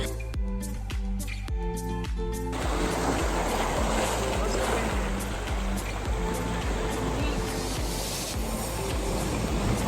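Sea waves on the Konkan coast surge in a continuous broad wash after a short tonal musical opening, with voices talking faintly over the surf.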